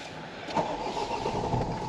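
A parked car that had been warming in the sun fires up and settles into a steady idle, a continuous engine drone heard up close with no one talking.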